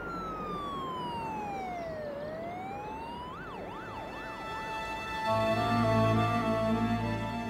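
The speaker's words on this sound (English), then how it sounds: "racing towards hospital in the back of an ambulance" An ambulance siren sweeps down and up, then warbles quickly before settling into a steady blaring tone, loud and close with traffic rumble underneath.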